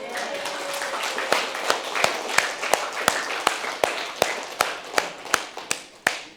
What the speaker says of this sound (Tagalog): praktisin natin ang malakas na palakpak